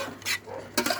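Coconut milk stirred in a pan while cooking outdoors, two short scraping strokes of a utensil against the pan over a faint sizzle, close by.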